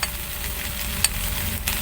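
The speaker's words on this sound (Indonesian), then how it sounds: "kita lanjut lagi aduk-aduk rata sampai semua bumbunya itu menyatu dengan ikan dan juga kentangnya" Fish and fried potatoes in balado chili sauce are stirred in a pan, a steady sizzle with occasional soft scrapes and clicks of the utensil, close and continuous without talk.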